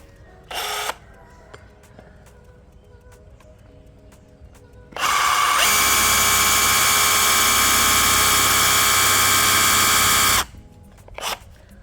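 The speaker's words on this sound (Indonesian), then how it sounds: "Kita akan mengebor besi dengan ketebalan 1 cm atau 10 mili." A Bosch GBH187Li cordless brushless rotary hammer runs nearby for about five seconds with a steady, high whine as it bites into 10 mm thick steel, with quiet gaps and brief clicks before and after.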